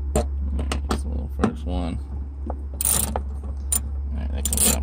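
Bolts being backed out with a T30 Torx bit inside a Jeep Wrangler during sound-dampening work, giving close ratcheting clicks and metallic taps in short bursts over a steady low hum.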